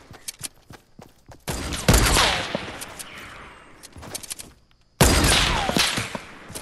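Gunfire bursts in Fortnite, with sniper rifles in play: sharp close cracks at the start, then two long loud barrages of overlapping shots with a brief lull between them.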